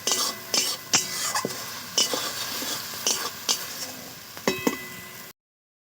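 Fried bhendi fish being stir-fried in a pan, with a spatula scraping and clinking against the metal in repeated strokes over a soft sizzle, close by and without talk.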